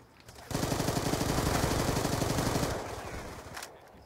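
Rapid automatic gunfire in the video game Black Ops 2, a loud sustained burst of close shots that starts abruptly, rattles steadily for about two seconds, then fades into quieter scattered fire.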